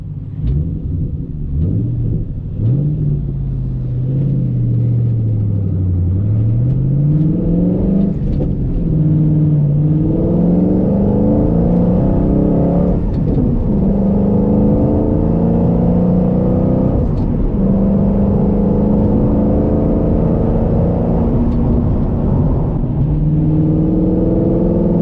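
A Ford Mustang pulls hard through second and third gear, its engine note climbing in steady rising sweeps with brief dips at each shift, loud and close from inside the car, no talking.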